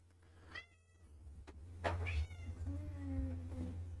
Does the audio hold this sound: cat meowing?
yes